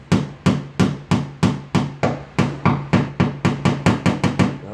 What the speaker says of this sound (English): what I'm gonna do here is take the hammer